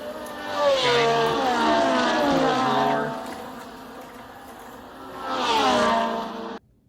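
A jet-black 1970 Dodge Charger RT slot car with a blower runs on a racing track, its electric motor rising to a loud whining pass, fading, then whining past again.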